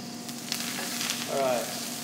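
Fresh sage and thyme fry in a pan while being gently stirred, giving a steady close sizzle with a brief swell of scraping movement partway through.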